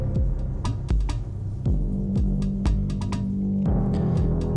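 Elektron Octatrack playing a shifted sequence: punchy synthetic kick hits with falling pitch sweeps and clicky percussion over a sustained tonal drone, looping in a steady electronic rhythm.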